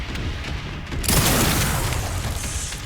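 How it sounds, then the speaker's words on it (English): A grenade detonates in the Resident Evil Requiem video game: a loud, sudden boom about a second in, followed by a sustained rumbling roar and debris noise that fades slowly. "Might try hitting him with a grenade"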